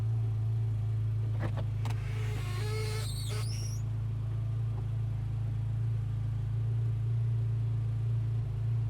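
A Porsche 911 Carrera S (991.1) engine rumbles low and steady up close, with a brief rising rev partway through before settling back to a deep idle.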